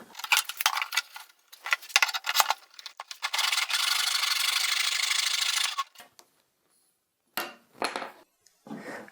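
A hand saw cuts a wooden dowel rod to a four-inch length, with quick scraping strokes at first, then a long steady run of sawing before it stops, followed by a few light rubbing scrapes.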